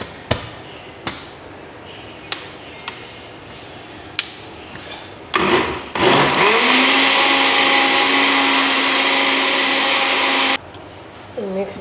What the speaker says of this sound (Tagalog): So, i-blend natin ito guys.